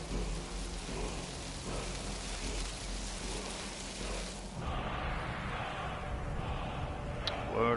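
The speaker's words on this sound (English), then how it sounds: "A shout to the skies, a cry to the clouds that awakens the destructive force of Skyrim's lightning." A Storm Call shout in Skyrim brings on a thunderstorm: continuous heavy rain with deep rolling thunder rumbling throughout, then a sharp crack of lightning near the end, loud and enveloping.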